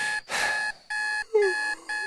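An alarm clock gives repeated loud electronic beeps in steady bursts with short gaps between them, and a brief voice cuts in between two of them.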